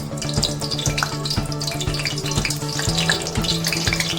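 Two tablespoons of ghee sizzle hard in a pan for chicken rezala, a loud close crackle with a regular low thumping pulse running beneath it, no voices.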